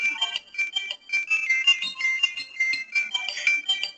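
Electronic phone ringtone trills in a repeating melodic pattern of short tonal bursts, clear and fairly close, with no talking over it.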